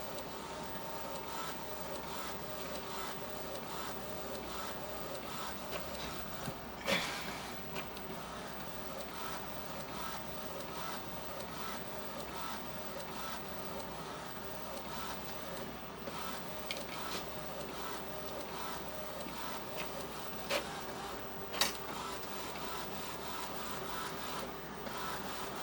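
An Epson ET-4800 inkjet printer runs a test print with a steady mechanical hum and whir, and a few faint clicks and knocks break through it. The sound is quiet and fairly close, with no talking.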